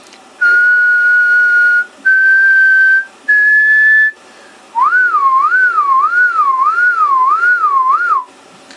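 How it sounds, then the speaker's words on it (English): A person whistles three steady held notes with short gaps into a microphone used for a GNU Radio test, then a wavering, warbling tone that rises and falls, loud and close. "you can also see when I whistle"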